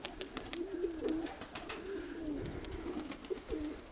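Pigeons coo softly in a dovecote on a damp overcast day, repeated low throaty coos over faint ambient noise with light scattered clicks and rustles.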